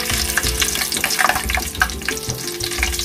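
Three green chillies crackle and sizzle as they hit hot cooking oil in a pan for an Andhra-style sand fish curry, with sharp popping spatters over a steady frying hiss; no talking.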